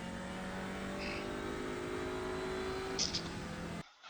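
Audi TCR race car in iRacing at the Nürburgring, engine droning steadily under modulated throttle, with a brief higher burst near the end before cutting off abruptly.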